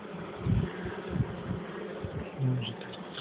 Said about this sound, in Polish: pszczoła środkowoeuropejska, czarna, dzika, groźna